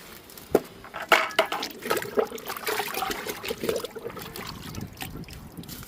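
Liquid fertilizer is poured onto okra plants growing in buckets, a close, uneven trickle and splash of liquid hitting soil and leaves in irregular bursts.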